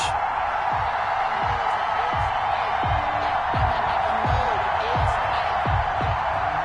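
Stadium crowd noise from a PS4 football video game featuring the Buffalo Bills and the Indianapolis Colts, a steady roar of cheering with repeated low thuds, continuous throughout.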